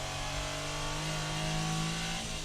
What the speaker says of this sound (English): So I'll do a full throttle acceleration in second gear.